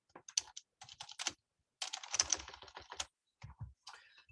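Quick bursts of typing on a computer keyboard while entering a folder path into R code, with clustered keystrokes in separate runs and short pauses between them, close and clear, with no talking.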